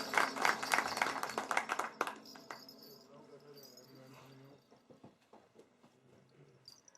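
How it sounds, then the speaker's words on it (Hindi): An audience at a Pothwari poetry stage event on Awaaz Radio in High Wycombe applauds a singer onto the stage, dense close clapping that thins out and fades into scattered claps. "भरपूर तालियों के साथ बहनों भाइयों"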